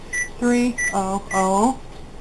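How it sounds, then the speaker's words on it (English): Short electronic beeps from a kitchen timer sound a few times while a person talks over them, timing broccoli blanching. "I'm going to set my timer."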